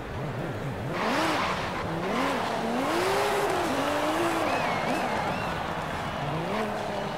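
A Subaru SVX in the racing game Forza Horizon 5 revs and accelerates, its engine tone climbing and falling through repeated swoops, with tire squeal over the top, loud and close throughout.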